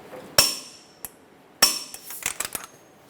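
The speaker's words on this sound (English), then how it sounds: "Torque this to 103 foot-pounds." Metallic clicks from a torque wrench tightening a front axle nut to 103 foot-pounds on a 2007-2012 Nissan Altima during a CV axle replacement: two sharp, close clanks followed by a cluster of lighter clinks and taps.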